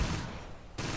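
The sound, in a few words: gunfire in the Close Combat video game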